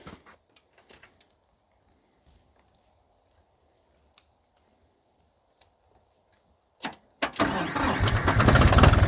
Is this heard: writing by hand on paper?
no